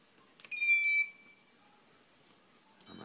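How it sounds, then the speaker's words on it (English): Electronic speed controllers on a quadcopter emit calibration beeps after the battery is connected: a loud high-pitched electronic tone of about half a second, a quiet pause, then a second short burst near the end. "Listen to the beeps."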